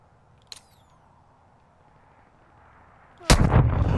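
Gunfire in the Call of Duty DMZ game: a single sharp distant shot early, then quiet ambience before a loud, sustained burst of close gunfire breaks out near the end.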